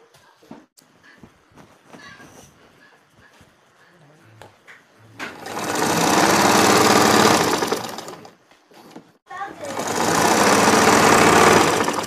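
A black Singer Butterfly sewing machine stitches a bedcover in two loud, sustained bursts of rapid whirring, preceded by quieter handling clicks and fabric rustles.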